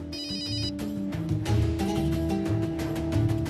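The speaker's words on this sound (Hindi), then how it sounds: "वरुण का फोन।" A phone ringtone plays, a repeating electronic melody with a steady pulsing rhythm, fairly loud and close, with no talking over it.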